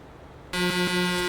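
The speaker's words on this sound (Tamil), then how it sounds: "ஓ, ஹார்ன்லாம் செமையாக இருக்குங்க." After a brief quiet moment, a loud, sustained electric truck horn in Euro Truck Simulator 2 blares suddenly, holding a steady buzzy tone with a slight wobble partway through.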